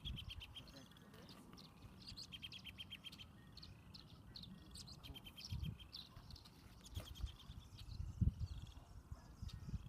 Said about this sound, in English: So the song of the robin, and then they'll do like a little whinnying call